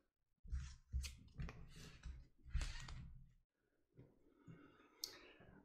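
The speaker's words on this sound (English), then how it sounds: "I'm gonna shuffle all these into the deck" Playing cards are shuffled into a deck in a series of short, close riffling and clicking bursts separated by brief pauses, with a sharp snap near the end.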